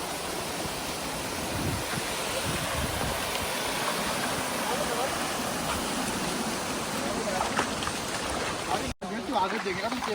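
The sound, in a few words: waterfall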